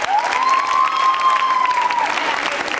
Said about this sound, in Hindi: जोरदार बजनी चाहिए तालियां एक बार और।